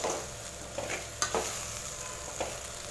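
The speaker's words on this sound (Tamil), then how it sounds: "கத்திரிக்காயோட மசாலாலாம் சேர்த்து நல்லா மிக்ஸ் பண்ணி வதக்கி விட்டுட்டேன்" Brinjal pieces coated in masala are stirred and sautéed in a pan, with a close steady sizzle and a few distinct spatula scrapes and taps.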